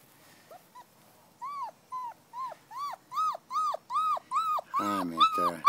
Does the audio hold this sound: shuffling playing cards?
no